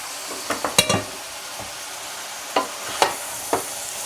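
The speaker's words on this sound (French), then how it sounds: "Il faut que ce soit le feu maximum pour sauter les légumes." Vegetables for ratatouille being sautéed over maximum heat: a steady soft sizzle broken by a few sharp scraping and stirring clacks of a utensil in the pan, clustered early, then scattered spaced hits, with no talking.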